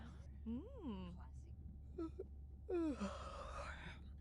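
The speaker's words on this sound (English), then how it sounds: "Was that a yawn?" A video game character from Beyond Blue gives a drawn-out, voiced yawn with a rising and falling moan, followed by a couple of short breathy sounds and a second longer yawn-like exhale, all close and fairly quiet.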